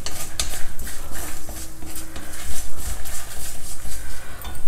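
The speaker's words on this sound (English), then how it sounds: "1/4 teaspoon of methi seeds and 2 dry red chilies. Fry all these ingredients well" Methi seeds and dry red chilies fry in a pan while a utensil stirs them, giving a continuous, irregular clatter and scraping of metal with a soft sizzle underneath, close and fairly loud.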